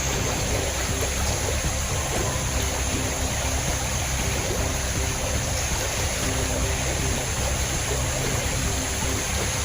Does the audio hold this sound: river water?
yes